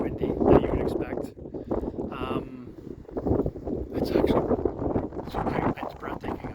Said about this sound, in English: It's windy as windy that you would expect.